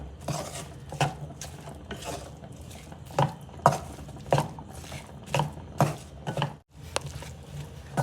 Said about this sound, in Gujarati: અને દળેલી ખાંડ નાખીશું 2 ચમચી જેટલી। હવે આને મિક્સ કરી દઈએ।